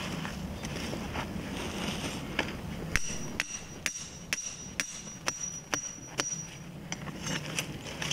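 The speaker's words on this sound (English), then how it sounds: "Now I will attempt to hammer it in there." Carpenter's hammer striking a coyote trap stake into ground in the Adirondack Mountains, about a dozen sharp, evenly spaced blows close by over steady outdoor wind.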